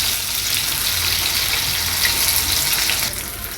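Fish frying in a pan gives off a steady, loud, close sizzle with hissing crackle that runs unbroken and drops slightly near the end.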